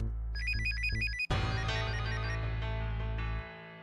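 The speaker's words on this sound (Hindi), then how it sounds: "कहाँ से फोन बज रहा है?" An electronic phone ringtone plays a repeating melodic pattern of chirps, then a louder, fuller ringing tone sustains for a few seconds before cutting off.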